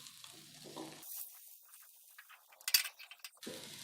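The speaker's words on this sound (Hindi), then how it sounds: "अब हम इसमें थोड़ी सी जो प्याज है, हमारे पास एक प्याज ली थी, वो डाल देंगे और थोड़ा सा इसको भून लेंगे।" Onion frying in a pan for a potato Spanish omelette gives a soft sizzle with stirring scrapes, then a few bright metallic clinks near the end. No one speaks.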